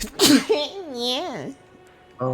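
A single loud, close sneeze bursts out in a room while someone plays Elden Ring, and a short spoken reaction follows right after.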